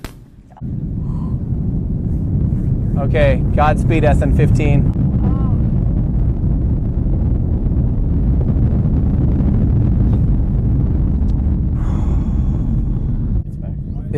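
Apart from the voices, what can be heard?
rocket launch engine roar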